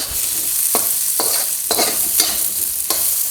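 Frozen peas sizzle in a pan of pork fried rice, a steady bright frying hiss broken by sharp scraping stirs at regular intervals, close and fairly loud with no talking.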